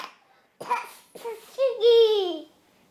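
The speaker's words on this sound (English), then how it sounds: "That's the fakest cough I've ever heard." A person forces out a deliberate fake cough, a short burst followed by a couple of voiced, throaty huffs over about two seconds, close and fairly loud.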